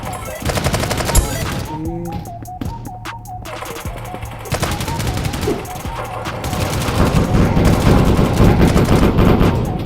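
Loud, continuous bursts of automatic gunfire and rapid shots fill a shooting video game, Blast Buddies, with sustained fusillades and little pause throughout.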